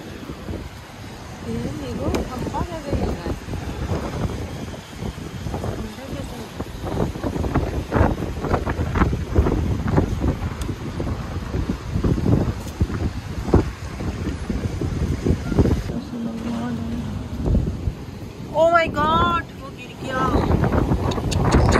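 Wind and heavy rain during a nighttime storm in the UAE, gusting wind buffeting the microphone with a constant rushing wash of rain, while a person talks intermittently over it.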